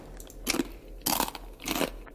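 Crackers crunched in the survival game The Long Dark: three loud, dry crunching bites spaced about half a second apart over a faint steady hum.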